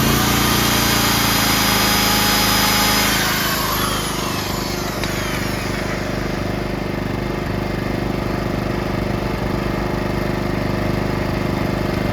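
A Powersmart PS5025 2200W four-stroke OHV gas inverter generator runs in eco mode under electrical load, a loud continuous engine drone with a steady buzzing hum that shifts pitch slightly partway through as the load changes.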